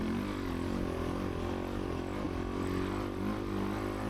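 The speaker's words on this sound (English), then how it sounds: "I could hear the bike right now, and I'm revving it more" A dirt bike engine revving drones steadily at close range with a buzzing, uneven note and slight rises in pitch, with no talking.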